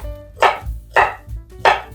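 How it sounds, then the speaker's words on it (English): Three sharp knife chops through asparagus strike a cutting board at an even pace, crisp and close, with no talking. "I'm gonna chop up my asparagus."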